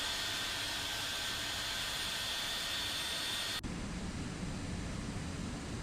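Boeing 757 jet engines in the X-Plane 12 flight simulator, a continuous loud broadband roar and whine that holds steady, with a sudden shift in tone partway through as the engine sound changes.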